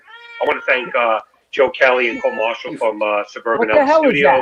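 A cat meows repeatedly, loud and close, in drawn-out, wavering cries woven through someone talking at the same time.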